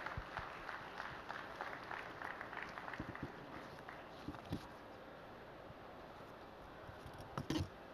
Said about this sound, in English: Please join me with a big round of applause.